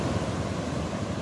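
A waterfall in the Parvati Valley near Kasol gives off a steady, broad roar of rushing water, close and loud, with no breaks or other sounds.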